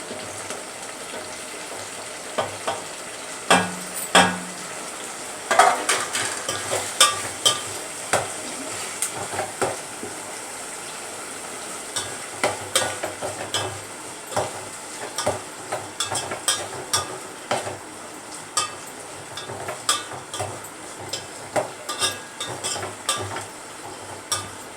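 Ginger garlic paste, curry leaves, coriander and chopped tomatoes fry in a pan, a steady low sizzle under repeated scraping stirs of a spoon, close and fairly loud throughout.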